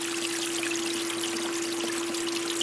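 Water rushes steadily through a large sluice set up for prospecting beach sand on a Michigan shore, a broad continuous hiss and splash with no breaks, close and fairly loud.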